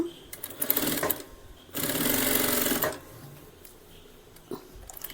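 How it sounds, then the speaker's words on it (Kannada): An electric sewing machine runs lock stitch and double stitch along a frock seam in short bursts, including one sustained two-second run, with someone speaking between the runs. "ಮೊದಲು ಲಾಕ್ ಸ್ಟಿಚ್, ಡಬಲ್ ಸ್ಟಿಚ್ ಹಾಕಬೇಕು."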